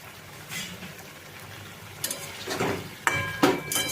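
Nate greens with bori and shrimp being stirred in a frying pan, soft scraping and sizzle in short bursts with a few sharper clinks toward the end, fairly quiet and close.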